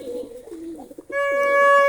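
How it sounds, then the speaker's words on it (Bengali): Close pigeon cooing at a loft at dawn during feeding, a soft throaty warble followed by a sustained, steady coo. "লফটে যেখানে ভোরবেলায় কবুতররা একে একে উড়ে আসছে খাওয়ার জন্য"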